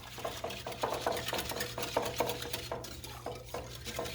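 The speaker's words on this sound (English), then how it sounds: "So I'm going to go ahead and stir this up." A utensil stirs and scrapes eggs around a pot in a steady rhythm, close and fairly quiet, with faint cooking noise underneath.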